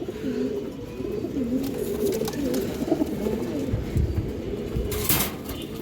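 Two male pigeons, active birds offered for sale at a market, give a steady run of low cooing calls over constant background noise, with a brief louder rustle near the end.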